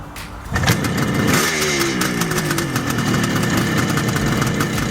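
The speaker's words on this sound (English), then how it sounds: "Powered by a 748cc, two-stroke, three-cylinder engine." A 1972 Kawasaki H2 motorcycle's 748cc two-stroke three-cylinder engine idles and revs steadily with a raspy, buzzing tone, running continuously close by.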